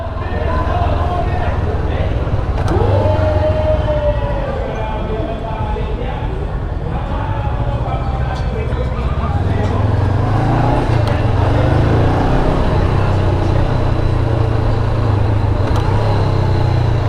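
Makina motorcycle engine braking on a test ride, a continuous loud low engine drone with wind and road noise, rising near the end, under a talking rider.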